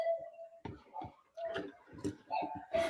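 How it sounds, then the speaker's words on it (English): Clocks ticking in a room, a series of distinct clicks and tocks at irregular intervals with a faint tone in between, close and clear. "The clocks drive me cuckoo, literally."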